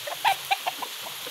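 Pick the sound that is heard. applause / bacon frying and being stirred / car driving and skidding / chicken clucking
chicken clucking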